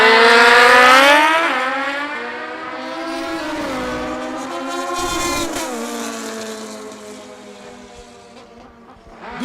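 Drag racing motorcycle at an IHRA World Finals event launching down the strip, a loud high-revving engine whine that rises through gear changes and fades as it pulls away.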